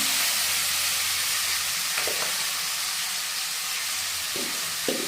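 Onion paste frying in oil left over from frying fish: a steady, hissing sizzle close by, with a couple of brief stirring scrapes near the middle and end, no voices.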